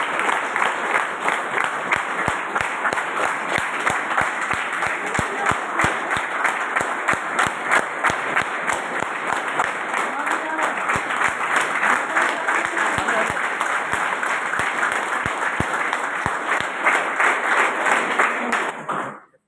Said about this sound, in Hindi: इन सभी साथियों के लिए एक बार ऐसी तालियाँ हो जाएं